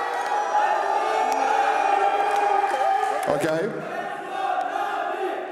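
A large arena crowd of Counter-Strike fans roars and cheers steadily at a live CS:GO tournament, a thick continuous wall of voices with whoops rising over it while a host's voice speaks on top.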